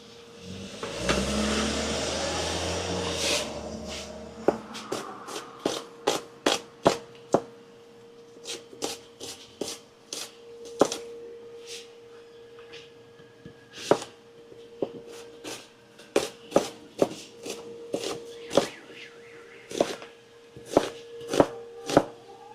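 Onions are chopped on a kitchen counter, a long series of sharp, close knife knocks on a board, irregular at first and then in quick steady runs, over a faint engine hum early on.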